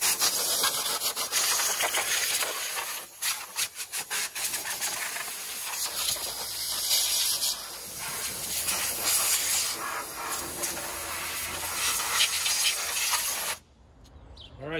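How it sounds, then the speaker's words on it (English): Compressed air blasts dust off a car engine bay: a continuous loud, close hiss with slight fluctuations, cutting off near the end. "Now, I'm gonna grab some compressed air and a detail towel,"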